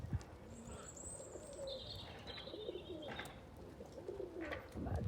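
Pigeons coo softly in a back garden, with a few bird chirps over steady background noise, fairly close and without talk.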